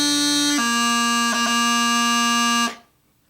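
Bagpipe phrase ending with a G grace note on C, a move to low A and a rapid burl embellishment, the reedy, buzzing tone continuous and loud before stopping abruptly into silence.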